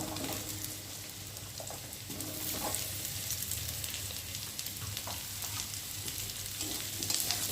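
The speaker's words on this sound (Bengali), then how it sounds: "আর এখন আমি কেটে রাখা আলুগুলো ছোটো ছোটো দিয়ে ভালো করে ভেজে নেব।" Small cut potatoes frying in a pan with already-fried onion and garlic give a steady, close sizzle with faint crackles throughout, no voices.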